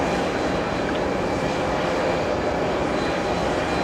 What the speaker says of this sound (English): Delta 4 flying in from London. 7 hours, 19 minutes of flight time, a 767-400.